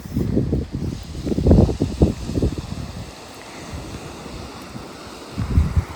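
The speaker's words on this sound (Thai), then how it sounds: "ฟังเสียงทะเลก็แบบว่า" Sea waves surge and wash in repeated loud swells, then ease into a softer hiss before another wave rolls in, with wind buffeting the microphone.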